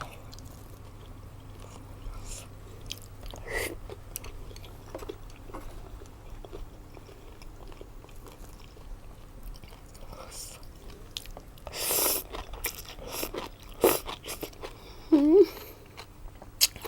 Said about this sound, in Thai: เคี้ยวแต่กรุบในปาก